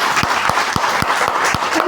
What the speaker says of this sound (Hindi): एक बार जोरदार ताली जरूर दीजिए